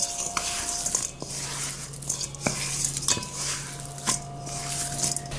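Chicken pieces coated in Cajun seasoning are mixed in a dish, with wet squishing and utensils clinking against the container in several separate bursts, up close.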